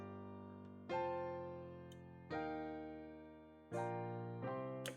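Clean, unprocessed piano plays a slow chord progression, four sustained chords struck one after another, each ringing and fading before the next, quiet and alone.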